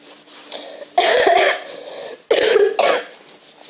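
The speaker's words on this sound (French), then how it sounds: "Ça me fait tousser" Two harsh bursts of coughing, each a quick cluster of hacking coughs close to the listener, separated by a short pause.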